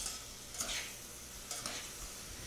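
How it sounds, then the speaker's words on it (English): Seasoned asparagus being tossed in a pan over low heat with a sauce for curried scallops, a faint steady sizzle broken by two soft scraping, stirring sweeps. "So I'm just gonna toss that around."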